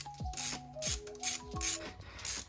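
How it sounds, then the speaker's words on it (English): Ratchet wrench clicking in quick bursts while loosening bolts on a Honda CBR1000RR motorcycle, roughly five close, loud runs of rapid pawl clicks with brief pauses between. "you take off these two bolts."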